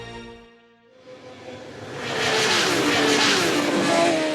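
A racing engine at the Isle of Man motorcycle road race, starting faint and low, then swelling into a loud, sustained high-pitched roar as the machine closes in and passes, with rising whine and no voices.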